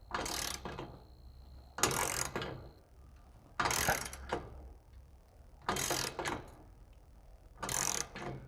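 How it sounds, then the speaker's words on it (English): A torque wrench ratchets a bolt tight while installing a secondary cat delete kit on an Aston Martin DB9, coming as five loud, close bursts of rapid clicking spaced about two seconds apart, with quiet pauses between. "Setting my torque wrench to 20."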